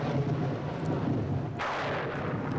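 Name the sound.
thunderstorm with rain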